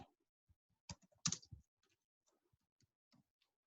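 Someone types code on a computer keyboard: sparse, close clicks and a few heavier clustered keystrokes separated by quiet gaps.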